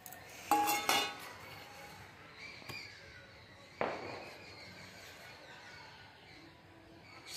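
A metal plate for semolina idli clatters and clinks as it is handled and set down, with a few sharp knocks in the first seconds and one more later, then quieter rubbing as oil is spread.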